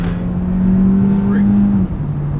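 A 2017 Hyundai Elantra ECO pulls out and accelerates, its engine a steady, close drone that climbs, then dips briefly near the end as it shifts up. It stays loud throughout.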